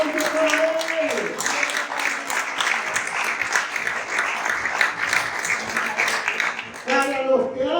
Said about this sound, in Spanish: Ese aplauso para él